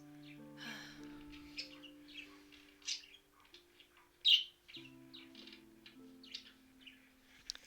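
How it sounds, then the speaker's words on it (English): Small birds chirp outdoors in short, bright, scattered tweets, fairly faint, over a steady low electronic hum with sustained tones. "I hear birds, not dogs."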